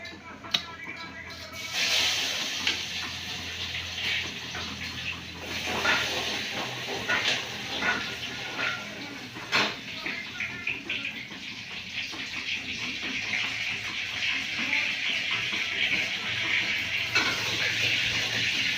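Garlic frying in hot oil after mustard seeds, giving a steady close sizzle broken by scattered sharp crackles and spits that rise and fall over time.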